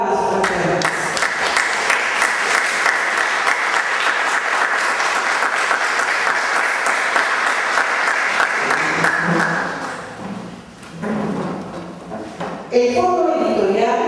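A university book-launch audience breaks into sustained, dense clapping for about ten seconds, then fades out as a voice begins speaking over a microphone.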